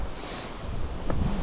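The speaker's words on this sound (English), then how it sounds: "it's windy up here" Steady, loud wind buffets the microphone on an Appalachian Trail mountain ridge, a broad roaring rush with no break and a brief gust-like swell near the end.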